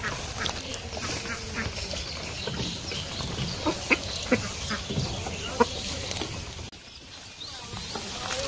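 Ducks quack repeatedly in an outdoor village setting, mid-distance, with other farm birds and ambient outdoor noise around them.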